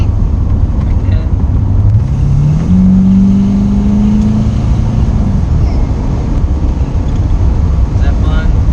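A Shelby GT500 accelerates hard, its loud, deep engine drone rising in pitch for a few seconds and then easing off, heard close from inside the car.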